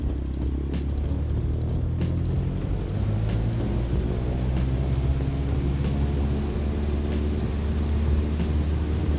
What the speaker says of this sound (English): Let's get onto the runway and let's take off.